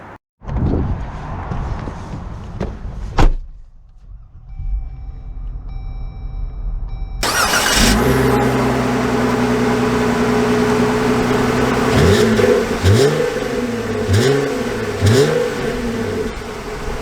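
A 2022 Jeep Wrangler Rubicon engine cranks and fires up after a few quiet clicks, then settles into a loud idle and is revved several times in rising and falling sweeps, close up.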